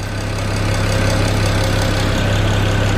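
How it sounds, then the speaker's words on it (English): A loud, steady mechanical whine and hum from a BMW engine's high pressure fuel pump, continuous over a low idling drone. "that's your high pressure fuel pump making a lot of noise"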